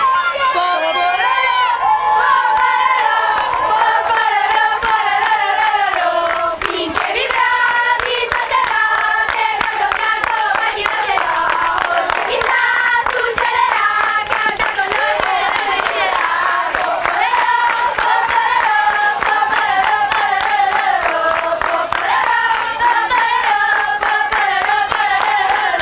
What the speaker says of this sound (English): we thought it would be fun for them to lead us in an Italian cheer